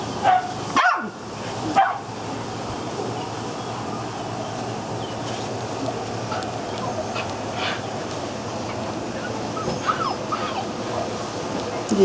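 Small dogs bark outdoors on Memorial Day, with a couple of close yaps early on and scattered fainter barks and whimpers over steady background noise.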